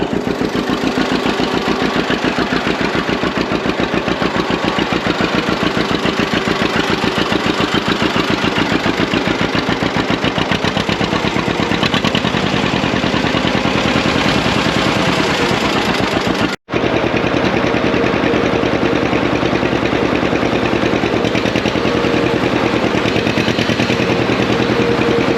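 A John Deere two-cylinder tractor engine idles steadily, close and loud, with a fast, even popping beat that holds for the whole stretch, broken only by one instant dropout.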